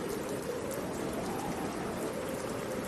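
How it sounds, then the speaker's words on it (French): Steady, dense rain pours down in a stormy backdrop for a tabletop role-playing game, a continuous even hiss of drops on surfaces with no breaks and no voices over it. "sous la pluie dans la tempête"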